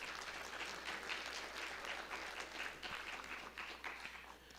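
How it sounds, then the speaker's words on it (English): At a scholarship quiz competition, an audience applauds the students on stage with steady, dense clapping that runs evenly throughout, heard from some distance and fairly quiet. "A round of applause for these students here on stage."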